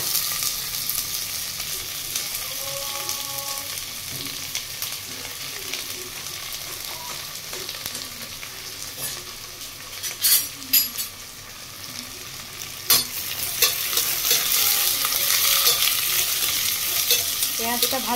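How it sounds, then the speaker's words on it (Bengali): Chopped onions frying in a pan with a steady sizzle, broken by scraping stirs and a few sharp clinks of the spoon against the pan, close up and without talk. "পেঁয়াজটা ভাজা ভাজা হোক,"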